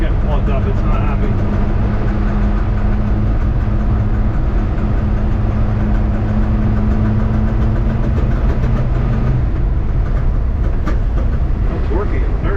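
Chevrolet C10 shop truck engine running rough with a plugged fuel filter, a loud continuous drone with uneven, faltering tone while someone talks over it.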